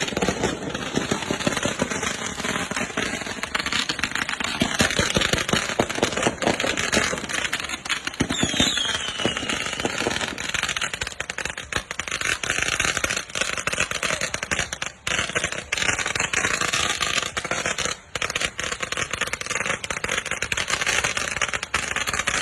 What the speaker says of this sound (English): He's in the middle of the hood of Harlem, enjoying this time doing the fireworks.